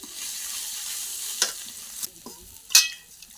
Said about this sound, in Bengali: এগুলো আমি এখন ভালো করে কষিয়ে নেব